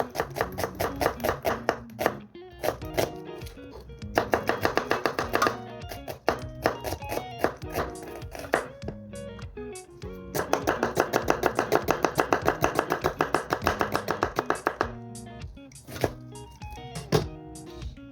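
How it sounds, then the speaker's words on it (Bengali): Onions are chopped with a knife on a board, fast rhythmic bursts of close, sharp thuds with short pauses, over faint tonal background sound. "এখন পেঁয়াজ কাটা হচ্ছে"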